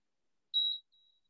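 A workout interval timer beeps during a post-workout stretch session, with one steady electronic tone lasting about a quarter second followed by a fainter, longer tone, alone and close by.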